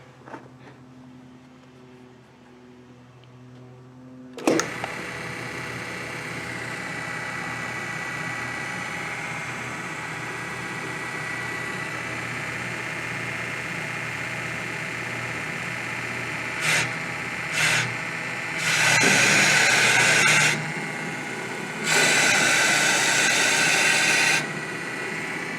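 An engine-driven power steering pump powering a car lift starts with a clunk, then runs steadily with a continuous mechanical whine and hum, broken late by several louder surging bursts.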